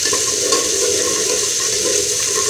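Onions fry in a pan as they turn nearly red, giving a steady, loud, dense sizzle with no talk.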